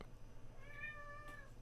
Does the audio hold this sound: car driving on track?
no